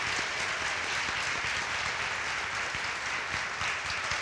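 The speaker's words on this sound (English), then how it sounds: "Can we give her another round of" A crowded audience at a literary society event claps steadily, a dense, even wash of many hands that holds at full strength throughout with no voices over it.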